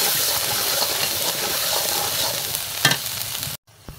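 Rui fish coated in turmeric and salt fries in hot oil with a steady close sizzle, broken by a sharp utensil clink near the end before the sizzle briefly cuts out.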